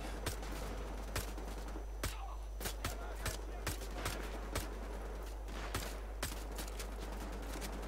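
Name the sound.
gunfire from a gun in the video game Wolfenstein: The Old Blood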